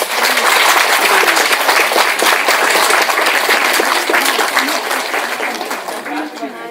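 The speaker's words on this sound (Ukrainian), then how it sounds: "привітаємо наших місцевих пасічників та гостей щирими аплодисментами" Loud, close applause from the audience at a village honey festival, honoring local beekeepers and guests: thick, continuous clapping that holds strong, then eases slightly toward the end.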